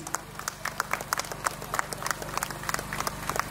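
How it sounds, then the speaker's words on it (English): A crowd outdoors at a 5k Run For Green event on Necklace Road, Hyderabad, claps for children, with scattered, irregular claps over a low hum of background noise, moderately distant. "Can we have a round of applause for the kids, please?"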